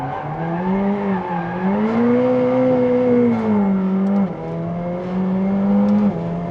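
A McLaren 765LT in sport mode with aggressive gear changes and sharp throttle, its engine droning steadily from inside the car, rising and falling in pitch with a brief dip as the gears change.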